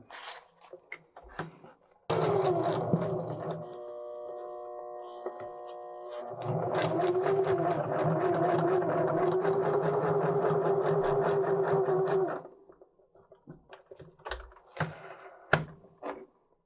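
A Janome HD3000 heavy-duty sewing machine stitches through a stack of material, starting abruptly into a steady, close, buzzing run of about ten seconds, with a few short mechanical bursts before and after.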